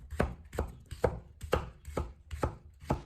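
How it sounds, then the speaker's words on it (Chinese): A knife chops winter melon into large chunks on a cutting board, seven firm, evenly spaced thuds over about three seconds, close and clear with no talking. "然后把冬瓜从中间切开，"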